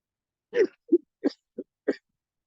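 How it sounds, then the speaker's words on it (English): A series of five short, close throat-clearing grunts and coughs, spaced irregularly with quiet gaps between them. "1 second to clear my throat."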